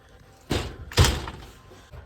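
A travel trailer door sliding in its track, two dull thuds about half a second apart, the second louder like the door knocking shut, close with a short decay.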